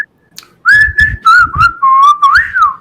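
A person whistles a short tune up close, a run of clear bright notes with small pitch slides, loud and alone with no talking.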